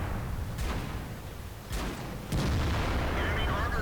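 Tank guns fire in World of Tanks, with an E100 in the fight: several sharp, heavy booms in quick succession, the last followed by a sustained rumbling roar, over a busy battle background.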